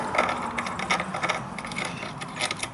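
A bolt being turned out of a Monster Moto mini bike wheel, giving a rapid clicking ratchet sound with metallic mechanism chatter, close and steady for a few seconds.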